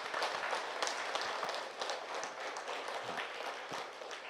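A seated audience at a Brahma Kumaris gathering claps loudly and continuously, a dense, even wash of applause filling the whole stretch with no talk over it.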